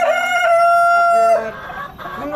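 A tiger breed rooster crows in one loud, close drawn-out call with a falling tail, heard alone with no talk.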